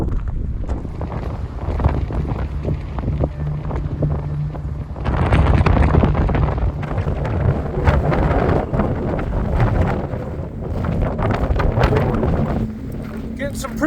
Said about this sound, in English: Some pretty good gusts coming down the canyon, up canyon.